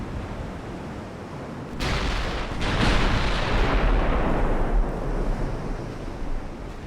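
A warship's guns fire a broadside in the naval strategy game Ultimate Admiral: Dreadnoughts, set in 1890, heard as a sudden loud roaring blast that rumbles and fades over several seconds amid steady ocean-like noise.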